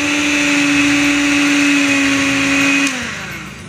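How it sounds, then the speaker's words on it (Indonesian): An electric mixer runs at high speed through brownie donut batter, a loud steady whirring drone that drops in pitch and loudness near the end as it slows. "Lalu saya mixer dengan kecepatan tinggi kurang lebih 10 menit ya Bunda."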